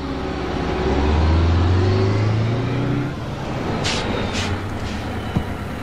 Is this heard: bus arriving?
yes